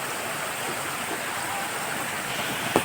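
A mountain stream spills down as a waterfall near a hillside temple on Girnar, giving a steady, full rush of water that holds evenly throughout with no voices over it.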